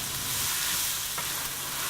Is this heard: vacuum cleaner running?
no